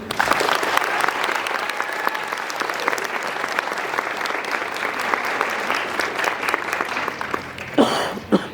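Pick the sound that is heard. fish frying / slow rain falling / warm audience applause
warm audience applause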